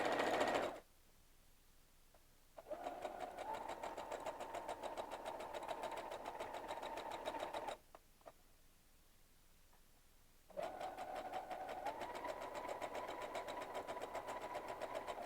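A sewing machine runs a steady stitching line about a quarter inch from a raw fabric edge, in two sustained bursts of close, even whirring separated by brief pauses, with faint clicks in the gaps.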